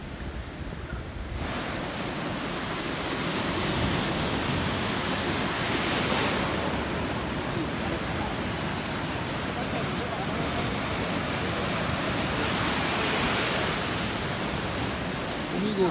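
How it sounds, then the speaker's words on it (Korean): Ocean waves surge below the rocky cliffs at Homigot on the Pohang coast, a loud, continuous roar of broad surf noise with gusty wind buffeting the microphone and a couple of swelling peaks as water rushes in. "여기 지금 파도가 들어오는 걸 볼 수 있습니다."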